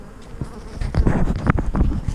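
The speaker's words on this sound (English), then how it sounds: "Just shake these bees right in front of the entrance on another colony" A dense, loud buzz of honey bees shaken off a frame in front of a hive entrance in a bee yard, with thumps as the bees land and a swelling swarm drone close by.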